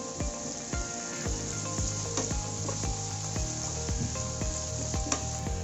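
Sliced onions sautéing with salt in a pan for Kerala-style chicken mappas, giving a steady sizzle with repeated scraping clicks of stirring throughout.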